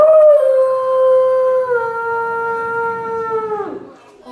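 A wolf gives a single long, clear, sustained howl at close range that holds a steady pitch and then dips and breaks off at the end, loud and alone.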